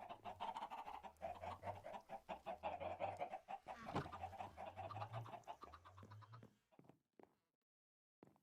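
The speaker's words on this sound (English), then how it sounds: "Chickens make noises," Chickens cluck in Minecraft, a steady run of repeated blocky game clucks and low bawks for several seconds, then sparse faint clucks trailing off into silence.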